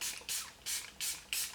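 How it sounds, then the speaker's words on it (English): Four quick hissing pumps of Revolution Super Dewy fixing spray misted across a face, evenly spaced bursts close to the microphone with quiet gaps between them. "I'm going to go in with my Super Dewy Fixing Spray by Revolution"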